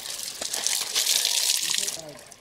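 Water splashes and sloshes as a quick-dry shirt is washed by hand outdoors on a hiking trip in New Brunswick, Canada, a close, continuous rinsing sound with a voice heard briefly near the end.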